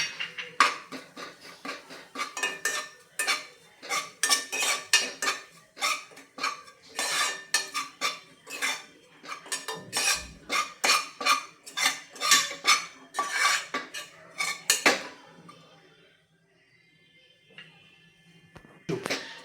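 A spoon stirs and scrapes dried date powder roasting in ghee in a metal pan, with rapid, rhythmic clinking strokes close by that stop near the end, leaving a faint tap or two.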